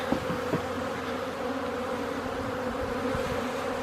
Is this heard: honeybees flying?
yes